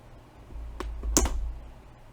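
Two small clamps snap onto a paper craft piece, giving a pair of quick, light clicks close together, quiet and near against a soft background hum.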